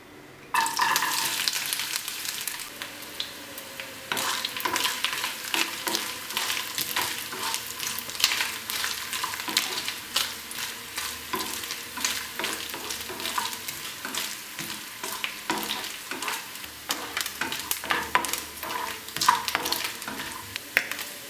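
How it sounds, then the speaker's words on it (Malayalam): Coconut pieces frying in hot ghee in a pan for pumpkin payasam, a steady loud sizzle with crackling, broken by repeated scraping as the pieces are stirred, close up with no voices. "നെയ്യ് ചൂടായിട്ടുണ്ട്. നമുക്കിതിലേക്ക് തേങ്ങാക്കൊത്തിടാം."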